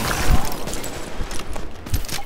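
Gunfire from headshots in The Division, a burst of overlapping rapid shots and scratchy cracks, loud and close, with a few heavier impacts standing out.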